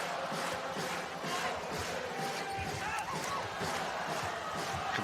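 Volleyball arena crowd at a women's Nations League match between Italy and Poland, a loud roar with rhythmic clapping or stomping pulses and a commentator talking over it.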